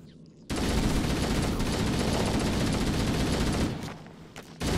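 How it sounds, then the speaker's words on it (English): Continuous loud automatic gunfire in Halo: Combat Evolved, aimed at small crawling creatures, holding steady for about four seconds, then briefly dropping away before resuming. "turn around and shoot those little crawlers"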